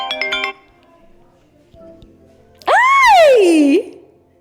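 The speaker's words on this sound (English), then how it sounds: "we got a phone call coming in from Durga Maru" An incoming phone call rings with a loud melodic ringtone, a short burst of notes followed after a pause by a sweeping, swooping tone, close and clear.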